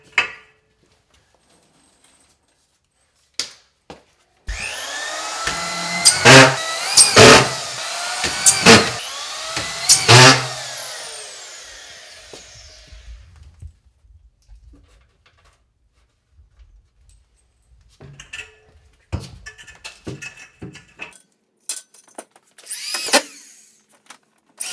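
Power drill driving screws through drywall into a metal angle track during a DIY install, heard in several short whirring bursts with pauses between them, close and loud, followed by scattered knocks and handling clatter.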